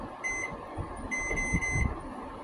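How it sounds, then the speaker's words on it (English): A kitchen timer beeps in steady repeated pulses during homemade strawberry jam making, clear and fairly close over a low background rumble. "Timer."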